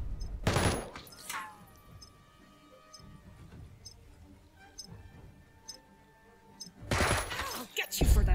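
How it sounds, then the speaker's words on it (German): Gunfire in the turn-based combat game Jagged Alliance 3, loud bursts of shots near the start and again near the end, with quieter ticking game sounds and faint effects between them. "Schießt einmal und schießt zweimal."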